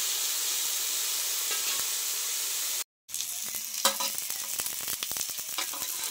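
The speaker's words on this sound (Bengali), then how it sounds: "শাকটা কিন্তু ভাজা হয়ে গেছে, দেখো" Thalkur greens fry in a wok with a steady, loud sizzling hiss, broken by a brief silence, then crackling spatter and scraping stir strokes up close.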